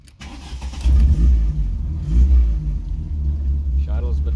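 A Mk1 with a 1.8 8v engine fed by a Weber 32/36 carburettor turns over and catches, settling into a loud, slightly uneven low rumble close by, with voices faintly underneath.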